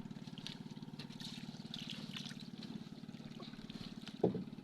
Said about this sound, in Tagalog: magpapaandar na tayo ng makina.